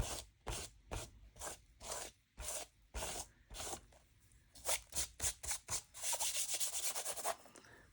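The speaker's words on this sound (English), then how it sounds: "It's time to use my rubber cement square to rub off the salt." Repeated rubbing strokes of a rubber cement square scrubbing dried salt off watercolor paint, a steady rhythmic scratchy back-and-forth close up, speeding into quicker short strokes toward the end, with no talking.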